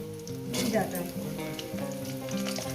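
Potatoes and Malabar spinach stalks fry for a pumpkin chorchori in a pan, giving a steady, close sizzle that swells briefly near the start and holds over a low tonal hum in the background.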